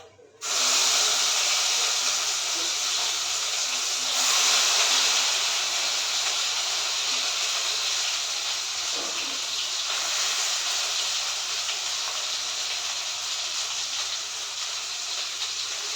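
Ground masala paste hits a hot pan with fried paneer, letting out a loud, sudden, continuous hiss that holds steady and fairly close throughout, with no talking.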